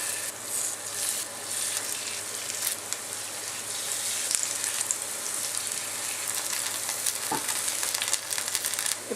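Chicken pieces frying in hot oil for dragon chicken, a steady close sizzle and crackle with bright spitting bursts throughout, no voices.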